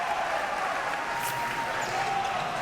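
Crowd noise from spectators at a boys high school volleyball championship match, a steady broad wash of cheering and applause sustained throughout at moderate, even level with no distinct voices standing out.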